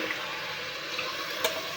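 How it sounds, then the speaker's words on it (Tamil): Water pours steadily into a pot for brinjal rice, a continuous close splashing rush with a small clink near the end. "தண்ணி ஊற்றிக்கலாங்க."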